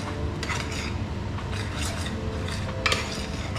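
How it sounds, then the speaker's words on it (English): Metal scrapes and rasps against a pan as meat is stirred over a small camp flame, a run of close, uneven strokes with a faint sizzle beneath and no talking. "I'll just give this a stir"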